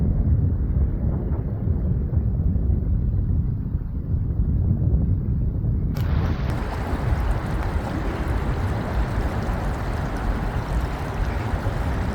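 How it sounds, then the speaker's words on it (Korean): Strong wind gusting outdoors beside Cheonggyecheon stream in Seoul, a steady loud rumbling roar with microphone buffeting that brightens and intensifies about halfway through, with no voices. "오늘 청계천 바람이 매섭게 불어오고 있습니다"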